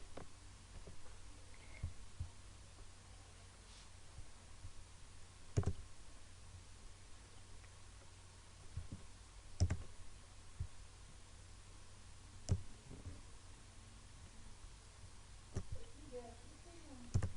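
Computer mouse clicks during an Adobe Illustrator lesson, a few sharp isolated clicks spaced several seconds apart over a quiet room hum, soft and close.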